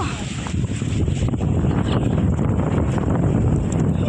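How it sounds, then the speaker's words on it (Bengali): Strong wind buffeting the microphone in a loud, continuous roar, steady from start to finish. "কি হাওয়া আজকে, দারুণ হাওয়া দিচ্ছে আজকে গো"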